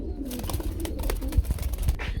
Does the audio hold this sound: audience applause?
no